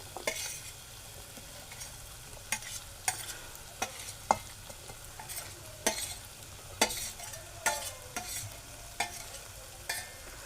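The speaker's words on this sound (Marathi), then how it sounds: "आता आपण त्यामध्ये ही बघा ही बारीक चिरलेली गोल काप केलेले कंटोली आहेत." Sliced spiny gourd (kantola) being sautéed with browned onion and tomato, with a steady soft sizzle under repeated sharp scrapes and clacks of a spatula stirring in the pan, close and fairly quiet, no voices.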